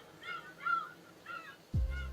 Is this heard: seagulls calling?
yes